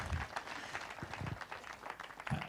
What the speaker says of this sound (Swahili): Tunaweza mpigia makofi mkubwa wetu.